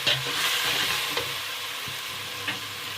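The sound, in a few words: green chillies frying in oil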